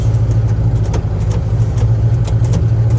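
A turbocharged Foxbody Mustang engine held on the trans brake, a loud, steady, deep drone with a strong low hum and faint rhythmic pulsing, continuous and close throughout.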